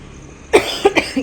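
Three or four short, harsh coughs in quick succession, close and fairly loud, following a quiet pause.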